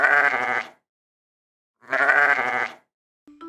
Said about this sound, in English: That's right, it's a sheep.